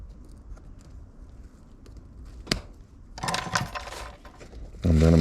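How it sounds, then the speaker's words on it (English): Wire cutters snip excess tie wire on a newly potted pre-bonsai tree: a single sharp metallic click, then a cluster of close clicks and rattles over a low background hum. "The next thing I'm going to do is cut the excess wire off."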